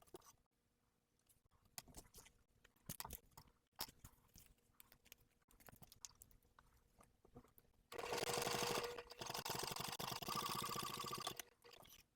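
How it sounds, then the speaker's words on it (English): A sewing machine whirs steadily through a loud stretch of top-stitching seams on a clear vinyl and jelly tote bag near the end, after quieter handling and clicking sounds. "now we're going to take it to the sewing machine"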